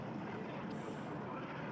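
A helicopter in Spider-Man video game footage, a steady, moderately faint rotor and engine drone with a brief whooshing swell partway through, no voices.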